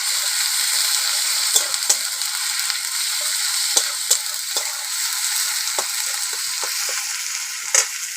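Ginger-garlic paste for a spicy crab curry sizzling in hot oil, a loud, continuous bright hiss close by, punctuated by scattered sharp crackles and pops, with no voices.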